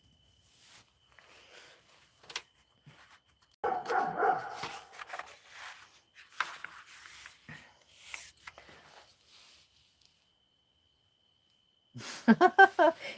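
A dog barks several times, sometimes muffled and distant, with a sharp cluster of loud barks at the end; a person talks in between.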